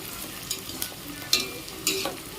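Chopped carrots and beans for a coconut milk veg biryani go into a hot pan and get stirred, giving a few sharp scraping strokes over a soft, steady sizzle with no talking.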